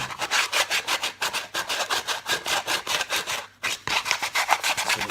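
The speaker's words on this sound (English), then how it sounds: "which is probably better just being done with the sandpaper in the hand, just around it" Rhythmic hand sanding of a carved wooden kuksa cup with sandpaper, rapid back-and-forth rasping strokes close up and steady, with one short pause before the rubbing resumes.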